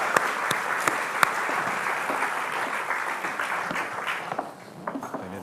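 Audience applause at a Portuguese-language literary talk about a novel, a dense steady patter of many hands with a few sharper claps, thinning toward the end.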